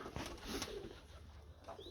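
Pigeons coo softly in a loft, low murmuring calls repeating close by over faint background noise.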